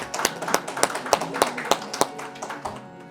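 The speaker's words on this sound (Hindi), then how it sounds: "एक बार तालियों के साथ अनमोल का जरा हौसला बढ़ा दीजिए।" Audience clapping in a studio talk show, a steady run of sharp hand claps at a fairly even rhythm, moderately close and loud, tapering off at the end without voices over it.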